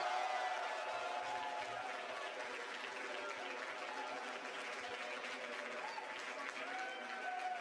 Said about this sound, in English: Why are they cheering?